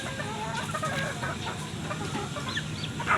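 Chickens cluck steadily at close range while being fed, a dense, continuous flock chatter with scattered higher calls and no talking.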